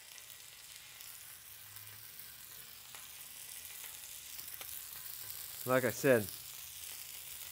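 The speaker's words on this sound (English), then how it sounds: "Now for our tuna chunks that we made, these big fat ones, we set those on. Let's listen to it sear." Big fat tuna chunks are set into a hot pan to sear, giving a brief burst of loud sizzling after a quiet stretch with soft background noise. Someone talks briefly.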